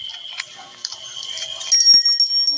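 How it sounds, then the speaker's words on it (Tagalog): A bell rings in the Granny horror video game, a bright, thin metallic chime repeating in quick strikes, fairly loud and alone without any voices. "Lagi na lang may nagbe-bell lagi dito pag dadaan"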